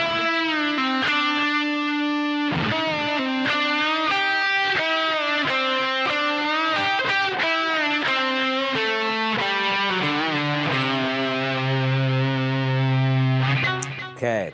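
Distorted electric guitar plays a run of phrases from a guitar solo, with steady picked notes, bends and a long sustained low note near the end, loud and close with no talking.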